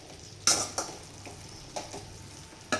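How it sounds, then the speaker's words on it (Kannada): Pepper chicken cooks on high flame in a pan with a quiet sizzle as it is mixed, with a few sharp scrapes and clinks of a spoon against the pan. "ಇದನ್ನು ಇವಾಗ ನೀಟಾಗಿ ಮಿಕ್ಸ್ ಮಾಡಿ ಒಂದು ಲಿಡ್ನ ಕ್ಲೋಸ್ ಮಾಡಿ ಐ ಫ್ಲೇಮಲ್ಲೇ ಬೇಯಿಸಿ."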